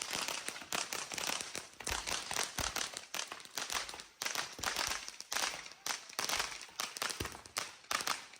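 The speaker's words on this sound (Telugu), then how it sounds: "క్రాకర్స్ అన్నీ కాల్చుకున్నాం" Firecrackers crackle and pop continuously during a Diwali celebration with friends in the UK, a dense run of sharp bursts with a few louder bangs, fairly close and steady throughout.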